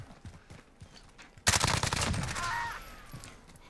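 A suppressed MP5SD submachine gun firing a sustained burst in Call of Duty Modern Warfare, sharp rapid rattling shots starting abruptly and continuing loudly for about a second before fading into a ringing tail.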